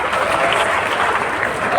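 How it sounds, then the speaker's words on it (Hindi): Loud, steady applause from an audience filling a hall at a motivational speaking event, dense clapping sustained without a break throughout. "जोरदार तालियां होनी चाहिए।"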